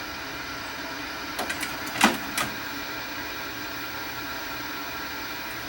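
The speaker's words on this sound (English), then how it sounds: "But when I eject the tape," A faulty Emerson TV VCR combo that shuts off ejects a tape, making a brief cluster of soft mechanical clicks and whirring over a steady background hiss.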